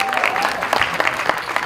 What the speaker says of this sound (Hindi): इसके लिए एक बार जोरदार ताली होनी चाहिए